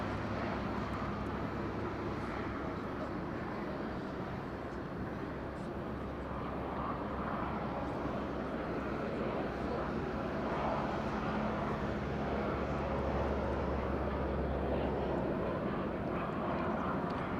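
Airliner in Star Alliance livery at Madeira Island Airport, a continuous distant engine roar with a low steady rumble that slowly swells over the stretch, heard alone at a moderate level.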